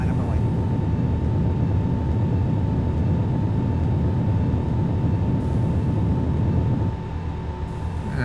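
Simulated Boeing 787 airliner in X-Plane 11 rotating off the runway, a steady loud roar of jet engines and rolling rumble with a faint whine, easing slightly near the end.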